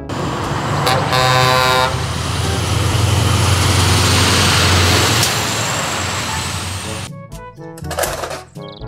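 A container truck's horn gives a loud, sustained blast near the start, followed by heavy engine and road rumble for several seconds. It cuts off into unrelated music at the end.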